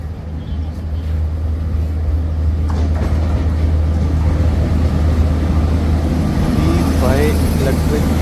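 Shatabdi Express hauled by an electric locomotive arrives, a steady loud low rumble of the train running through the whole stretch, with a rising whine and faint squeals near the end.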